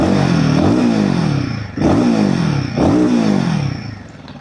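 A warmed-up Royal Enfield Himalayan 450 on its stock exhaust is revved hard close by, with three throaty rising blips, each dropping back briefly before climbing again, then settling toward idle.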